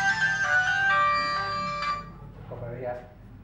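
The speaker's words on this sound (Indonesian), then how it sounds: "Dan akhirnya saya coba telepon" A telephone rings during a call, a bright melodic ringtone of several sustained tones for about two seconds, then fades as a softer voice-like sound follows.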